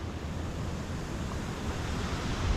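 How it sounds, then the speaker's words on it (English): Waterfall beside the Keuka Outlet Trail: a steady, broad rushing roar of falling water, heard from nearby with some wind buffeting the microphone. "There's the waterfall."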